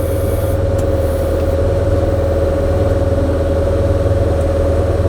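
Loud, steady engine drone of a tractor-driven Trackless ribbon snowblower running at full throttle through wet, heavy snow, with a constant hum and clattering texture and no talking.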